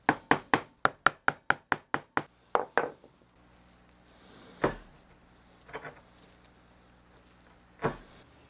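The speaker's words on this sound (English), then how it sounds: "What I want to do now is notch out for this truss rod nut." Rosewood set-neck Telecaster neck being notched for a truss rod nut: a quick run of about a dozen sharp, evenly spaced knocks, then a few scattered, softer taps after a pause.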